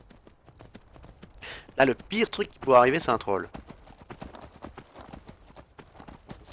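Horse hooves clip-clop steadily as a rider travels in the video game Skyrim, the rhythmic footfalls running under a man's conversational French speech throughout.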